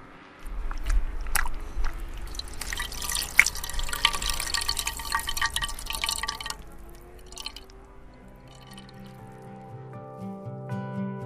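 Water drips and trickles from a wet washcloth, with scattered close splashes and wet patters, busiest early and fading toward the end.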